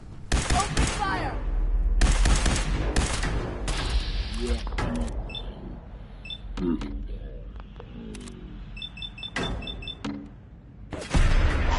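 Gunfire in the video game Fallout 4, sharp bursts and single shots scattered over several seconds with clattering impacts between them, loud and close, mixed with game voices.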